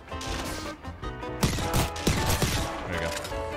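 Quick bursts of weapon fire in the battle-royale shooter Apex Legends, a cluster of sharp cracks in the middle of a busy, moderately loud game mix.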